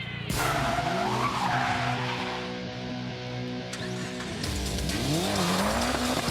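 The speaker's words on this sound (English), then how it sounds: "fishtailing and as much braking as he can, back up, and spin out of there like this" A car drifts on a film stunt set, fishtailing and braking with sustained, loud tire squeal over a roaring engine whose pitch rises and falls. Near the end the tires shriek again as the car spins out.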